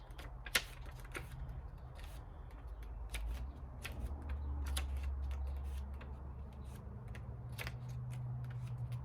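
Tarot cards riffled and flicked while someone searches the deck for one card, producing quick irregular papery snaps and ticks, close and fairly quiet, with no talking.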